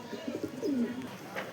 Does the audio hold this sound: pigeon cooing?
yes